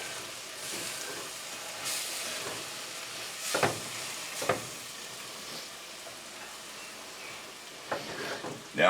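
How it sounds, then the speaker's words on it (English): Larb with mint leaves is mixed together in a bowl, making a faint, continuous wet rustle broken by a few sharper scrapes and clinks. No one speaks. "Get this all mixed together."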